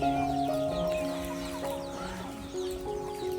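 Free-range desi village hens cluck in a loose scatter of short calls over a steady tonal background, several birds close by and moderately loud.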